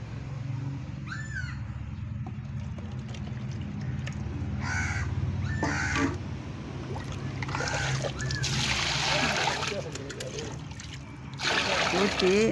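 Water poured into a bucket to dilute a mixed feed for a jasmine plant outdoors, a steady rushing hiss swelling in the second half, with crows cawing nearby.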